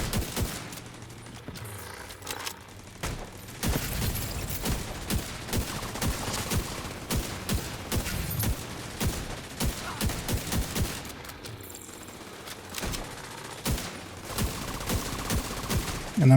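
Rapid bursts of M1A rifle fire in a first-person shooter game, repeated shots across the whole stretch with short gaps between volleys, loud and close.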